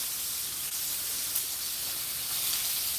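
Burgers frying in a pan on a lowered heat, a steady, even hiss of sizzling that carries on unbroken at moderate volume, close by and without talk.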